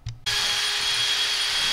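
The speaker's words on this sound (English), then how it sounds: "Just have to clean up the gasket surface and then we'll be good to go." Scraping and abrasive grinding on the crankcase gasket surface of a John Deere B tractor engine, a brief knock then a steady, loud, broadband hiss of a power tool running close by without pause.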